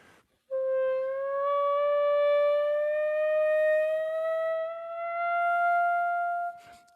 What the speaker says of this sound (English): I can slowly slide my fingers off the keys,